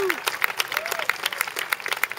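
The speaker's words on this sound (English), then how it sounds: "let's give our keynote speakers another round of applause" Scattered clapping from a crowd at a high school stay-in-school rally, with sharp, uneven claps of moderate loudness and a few brief whistle-like sweeps mixed in.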